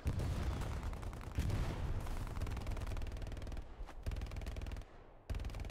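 Rapid machine gun fire in Hell Let Loose, set in a forest, rattles in dense sustained bursts with heavy booming impacts, briefly pausing near the end before resuming, loud and close.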